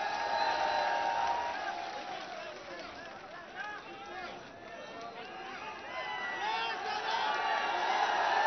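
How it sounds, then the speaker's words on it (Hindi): A large outdoor crowd at a political rally in Badaun, a broad rumbling wash of clapping, cheering and mixed voices, with sustained tonal shouts over it, steady in loudness and rising slightly toward the end. "जोरदार तालियों से इस्तकबाल।"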